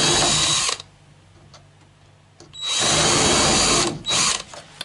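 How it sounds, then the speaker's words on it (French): A power drill boring a hole with a 2 mm bit during windscreen refitting on a Citroën Traction 11B, with two loud, close bursts of whirring separated by a quiet gap and followed by a short final burst. "je vais essayer de percer ça"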